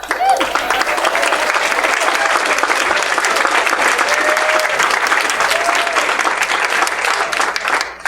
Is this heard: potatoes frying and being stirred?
no